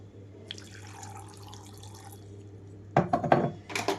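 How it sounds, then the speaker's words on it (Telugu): About half a cup of water is poured into a mixer jar holding carrot and a small piece of ginger for carrot juice: a steady splashing pour, followed by a few louder knocks and clatters near the end. "ఇందులోకి ఒక హాఫ్ కప్ వరకు వాటర్ వేస్తున్నాను"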